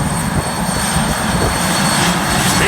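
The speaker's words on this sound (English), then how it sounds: "He's just going to make a quick 180 right here and give you one more look at this wonderful jet car" A jet car with a funny car body roars at an air show, a loud, steady, broadband engine rush with a thin high whine, continuous and fairly close, with no voices heard.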